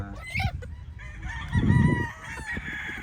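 Rooster crowing and hens clucking on a farm, a sustained crow swelling loudly midway over scattered nearby clucks and bird calls.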